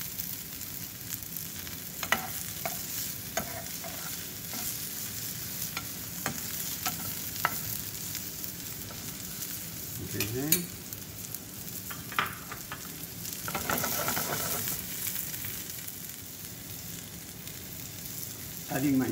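Sliced garlic fries in a pan with a continuous close sizzle, broken by scattered scrapes and clicks from stirring and a couple of louder surges.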